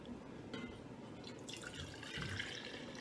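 Freshly brewed AeroPress coffee pours into a mug, a faint, soft trickle of liquid that swells slightly in the second half against a quiet room.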